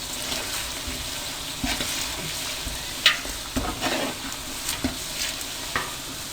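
Masala fries in a pot with about fifteen whole green chillies, a continuous sizzle punctuated by repeated sharp stirring clinks and scrapes of a spoon against the pot.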